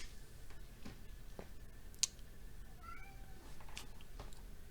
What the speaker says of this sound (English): my cat just entered the room